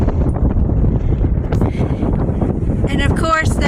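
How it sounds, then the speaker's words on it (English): Strong wind gusting across the microphone on a rocky hiking trail near Duncannon, Pennsylvania, a loud continuous low rumble and buffeting that fills the whole moment, with brief faint chirps near the end. "I found the wind gust."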